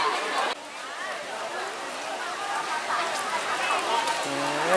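Rain falls steadily at a Buddhist temple's Kathin merit-making festival at Tham Pha Phueng in Wang Pong, a constant patter on surfaces with a crowd chattering and a voice speaking throughout.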